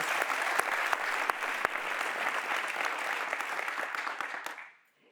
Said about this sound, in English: we need some claps for this.